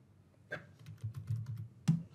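Keys clatter on a computer keyboard in a quick run of close, crisp taps with a couple of sharper strokes at the start and end.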